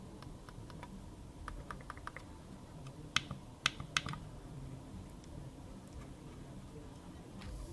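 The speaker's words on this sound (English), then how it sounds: "The clicks are shallow and a little indistinct, but that only contributes to the almost silent click on both sides" A Logitech POP mouse gives quiet, shallow clicks, a scattered series of faint ticks with a few sharper ones in the middle, under a soft background hiss.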